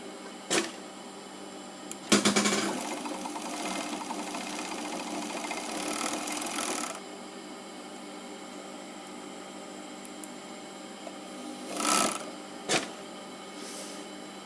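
An industrial overlock serger runs in a sustained burst of a few seconds, whirring close up, followed by short isolated mechanical clicks and a brief second run amid a quiet hum.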